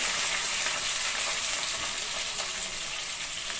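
Curry leaves and onion, with coriander leaves, fry steadily in hot oil for egg rice, a dense continuous sizzle holding at an even loudness throughout with no talking.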